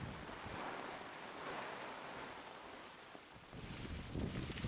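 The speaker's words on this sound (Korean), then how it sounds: "현재 태풍 6호의 영향으로 동해안 지역과 여러 내륙 지역들에서 계속 비와 소낙비가 내리고" Steady rain falls under Typhoon No. 6 on the east coast with heavy downpours and strong wind, a dense continuous hiss of drops on surfaces with no voices, swelling slightly near the end.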